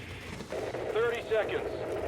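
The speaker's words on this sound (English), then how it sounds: "And I just do suppressive fire." Suppressive gunfire in The Division video game, a short burst of shots mixed with other game effects and a steady background rumble.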